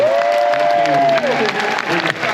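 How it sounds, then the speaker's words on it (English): A convention audience applauds a film reunion panel at Comic Con Liverpool, a steady, loud wash of clapping and crowd noise with a voice calling out over the top, fading slightly near the end. "let's have a huge round of applause for our panel that you see today."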